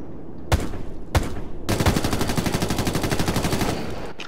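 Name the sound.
PDR gunfire in Ghost Recon Future Soldier video game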